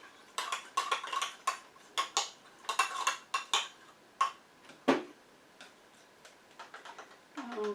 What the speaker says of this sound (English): we're going to just stir it up really good